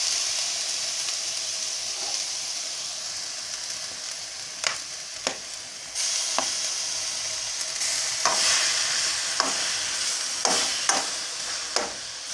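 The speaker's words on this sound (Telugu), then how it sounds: "బీట్రూట్ కొంచెం ఫ్రై చేసుకోవాలి." Beetroot frying in a pan for carrot beetroot halwa, a continuous sizzle broken by repeated sharp scraping strokes as the pieces are stirred, growing busier toward the end.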